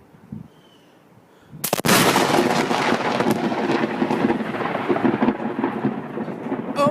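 After a quiet stretch a sharp, loud thunderclap cracks nearby, then heavy rain and rumbling storm noise roar steadily for several seconds; a brief voice is heard faintly at the start.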